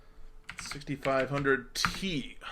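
Rapid computer keyboard clacking, with bursts of keystrokes running under a man's continuous speech.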